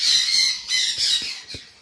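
A Red Factor canary gives a run of shrill, close squawks, three or four harsh bursts in quick succession, loud and alone.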